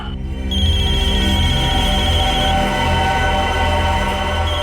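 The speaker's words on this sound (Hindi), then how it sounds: "इसमें तो मोबाइल के रिंगटोन जैसा कुछ बजा है" A mobile phone ringtone plays loudly and steadily, a sustained electronic melodic tone that starts after a brief pause and continues without talk.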